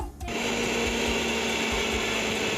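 An electric mixer blender whirs steadily as it purees cut watermelon with mint leaves into juice, a loud, even motor drone with a sharp start and no pauses.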